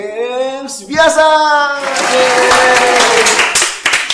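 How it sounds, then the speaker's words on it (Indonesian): An audience at a church youth show claps. A voice is heard briefly at the start, then dense applause swells and carries on loudly to the end. "Yang ikhlas dong tepuk tangannya."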